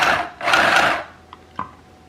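A mini sewing machine stitches fabric in two short whirring runs, close and fairly loud, followed by a couple of light clicks and taps as it stops.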